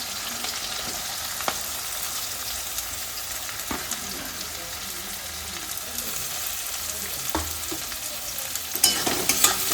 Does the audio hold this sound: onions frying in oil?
yes